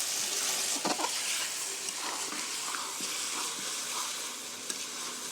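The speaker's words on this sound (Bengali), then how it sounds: "এখন আস্তে আস্তে জাল দিয়ে সুন্দর করে কষে নিব।" Chicken skin fries with spices in oil, a dense, even sizzle close up, with occasional stirring scrapes and no voices.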